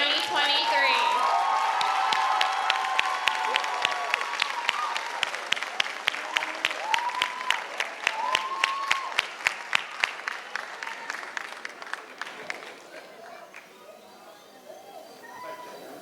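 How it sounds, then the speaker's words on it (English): An audience at a 2023 middle school graduation ceremony applauds the graduating class, with sustained clapping and cheers under an announcer's voice, gradually tapering off toward the end. "applause for class of 2023."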